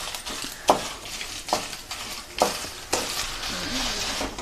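Dried red chillies frying in a pan for a chennangi leaf powder, giving a soft steady sizzle with a few sharp clinks of a spoon against the pan, close and alone without talk.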